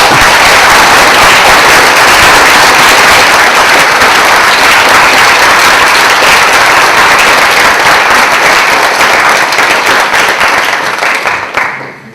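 A conference audience breaks into a long, loud round of applause honoring the event and its coordinator, dense steady clapping filling the whole span before trailing off at the very end.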